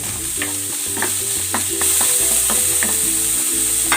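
Pork loin stir-frying in a hot pan gives a steady, close sizzle with repeated spatula scrapes and taps at an uneven rhythm throughout.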